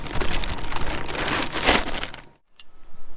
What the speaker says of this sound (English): And I believe the rain is just starting.